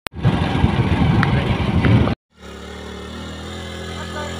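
A loud, rough motorcycle engine rumbles up close, cuts out abruptly, then a lower steady engine drone continues.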